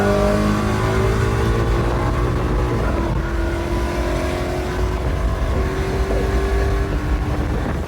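A 2017 Ford Mustang's exhaust revs loudly and continuously. The raspy engine note climbs and holds near the listener, then settles into a steady roar.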